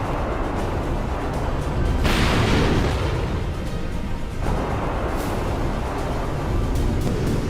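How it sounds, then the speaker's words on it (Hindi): Air defense missile fire and explosions over Kyiv, heard as a steady, rumbling din with broad booming bursts, a stronger blast near the middle, distant and wide, with no voices. "कीव की सुरक्षा में तैनात एयर डिफेंस से मिसाइलों की फायरिंग शुरू हो गई।"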